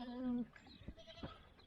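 A goat bleats near the start, a single drawn-out call, followed by quieter shuffling noises on a farm.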